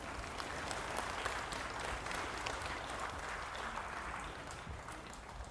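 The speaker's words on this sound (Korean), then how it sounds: "큰 박수로 맞이해 주세요" Steady audience applause fills a Korean apartment reconstruction association briefing hall, a dense wash of many hands clapping continuously at moderate volume without pause.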